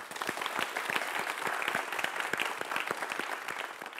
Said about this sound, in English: I would like to give everyone a round of applause, and especially for the teams tonight.